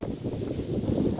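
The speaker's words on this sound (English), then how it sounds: "Oh, wind." Wind gusting outdoors across a microphone, a brief steady low rumble and buffeting with no other sounds.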